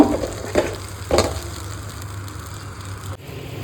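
Spice-washed water simmering in a pan before fish is added, giving a low steady bubbling and sizzle with a few louder bursts near the start, close and without talk.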